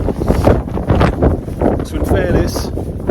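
Strong gusting wind of about 28 mph buffets a microphone at an exposed UK backpacking camp beside a lightweight geotarp shelter, a loud continuous rumble and roar with a person talking over it.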